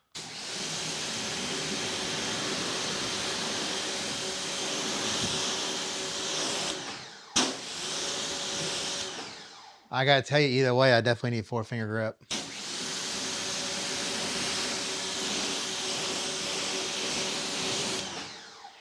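Twin Ryobi pressure washers blast a high-flow water spray close by, a loud, steady hiss that breaks off briefly and then resumes, while someone talks over it in a short stretch.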